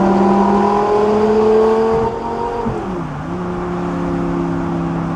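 An Audi R8 V10 with a gated manual and valvetronic exhaust revs high with a sharp rising wail. The pitch then drops and settles into a lower, steady hum, loud and alone with no voices.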